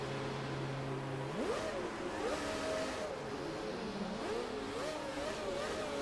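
A 2007 Ferrari Formula 1 car in the racing game F1 2017 revs its engine, a loud steady high-pitched whine climbing and dropping through gear changes, with no talking.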